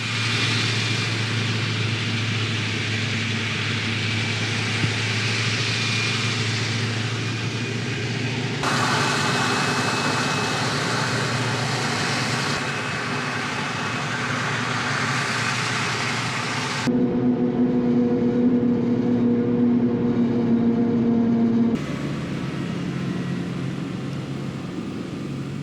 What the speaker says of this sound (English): With the help from an extra towing tractor and the Quaco's driven axles, the tractors and silage trailers can travel the field.